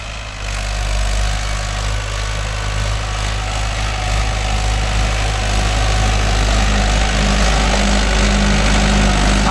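A Mahindra 575 DI tractor engine runs loud and close while the tractor is driven, a steady heavy diesel drone with a deep low thrum that holds evenly throughout, no speech over it.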